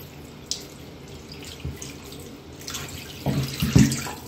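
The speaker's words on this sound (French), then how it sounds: "c'est de l'eau du robinet" Tap water runs into a sink while curly afro hair is rinsed, a soft steady flow with a few louder splashes and gurgles near the end.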